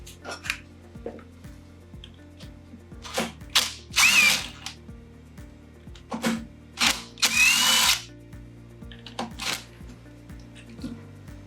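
A power screwdriver with a T25 Torx bit removes screws from a line-marking pump, giving several short whirring bursts separated by clicks and handling knocks, close and loud with no talk.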